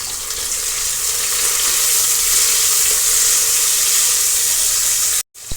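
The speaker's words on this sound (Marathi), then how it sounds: "आता आपण हा एक टोमॅटो आहे मिडियम साईज तो देखील व्यवस्थित तेलामध्ये मऊसर भाजून घेणार आहोत" A medium tomato frying in hot oil for masale bhat gives a loud, even, continuous sizzle close up, cutting off abruptly near the end.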